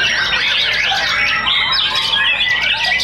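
Dense, busy birdsong from a white-rumped shama at a songbird contest, rapid chirps and squawky trills mimicking small birds, several birds calling loudly and close together without pause.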